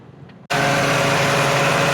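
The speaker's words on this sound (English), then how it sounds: "then we start the motor up, get it hot, give it some revs" A Nissan Cube engine with an overheating problem catches abruptly and then runs loud and steady close by, with a dense, constant roar as it is revved. No talking.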